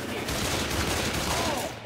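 Dense, continuous gunfire in the zombie shooter game Left 4 Dead 2, a loud unbroken volley of rapid shots lasting about two seconds with no pause.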